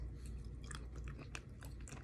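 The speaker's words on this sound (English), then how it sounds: "I'm gonna eat something here first. Some olives and some cheese." Soft, close chewing and biting of olives and cheese, a few quiet crunchy mouth sounds spread over a couple of seconds with no talking.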